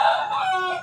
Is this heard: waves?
no